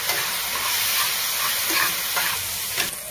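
Turmeric, asafoetida and homemade black chili powder being stirred into tawa paneer masala with vegetables in a pan, a steady frying sizzle and hiss with soft scraping strokes, close and continuous, no talking.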